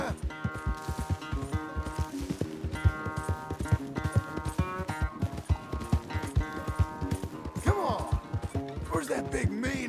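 Horse hooves clip-clop in a steady, close, rhythmic gait inside the Red Dead Redemption 2 video game, with scattered thuds and a possible whinny, and voices talking over the hoofbeats.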